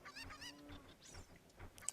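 Chickens in the video game The Legend of Zelda: Ocarina of Time let out repeated honking, clucking calls in an irregular rhythm. The calls are faint and sound alone, with no talk.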